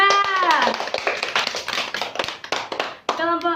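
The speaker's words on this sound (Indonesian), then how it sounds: "Tepuk tangan dulu buat kelompok 2." A fifth-grade class claps for a student group, scattered hand claps and taps mixed with children's voices chattering and calling out over them, fairly close.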